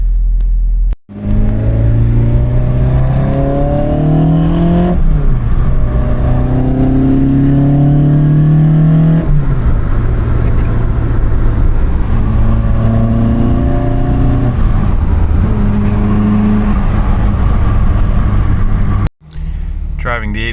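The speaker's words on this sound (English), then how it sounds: "Driving the 86 now, doing some street tuning, working on the enrichment and the fuel maps and stuff" A 20-valve Toyota AE86 engine pulling hard during street tuning, revving up through gears in repeated rising sweeps with brief drops between shifts, loud and close from inside the car.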